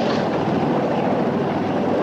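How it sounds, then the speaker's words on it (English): Steady, loud rotor and engine drone of a helicopter overhead, filling the whole clip with a constant whooshing rumble and no voices. "It's a helicopter."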